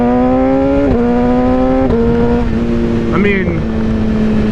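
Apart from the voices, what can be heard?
BMW S1000RR motorcycle engine revving to 8,000 RPM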